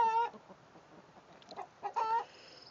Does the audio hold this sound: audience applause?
no